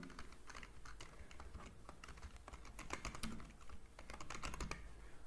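A name being typed on a computer keyboard: a steady run of quick, close key clicks with uneven rhythm and a few short pauses, with no voice over it.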